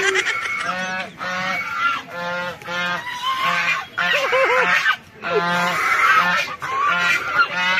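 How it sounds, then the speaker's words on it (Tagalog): Domestic geese kept as farm birds in Capas, Tarlac honk repeatedly in loud nasal bursts, several calls overlapping in a noisy, irregular chorus close at hand. "May mga alaga silang mga gansa dito."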